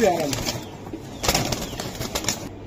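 A stone-eyed racing pigeon flaps its wings in bursts while held by hand, quick close fluttering beats mixed with rustling, and people talk nearby.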